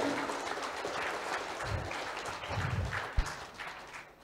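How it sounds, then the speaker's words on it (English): An audience claps for keynote speakers at an academic conference, a moderate, fairly even patter heard at some distance, with a few low thumps near the end as it fades. "Please give big applause to keynote speakers here."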